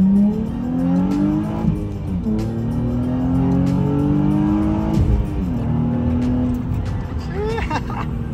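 A car makes a hard full-throttle pull on the road, its engine note climbing steadily through the gears with brief dips at each shift, loud and close from inside the cabin, ending with a high revving whine.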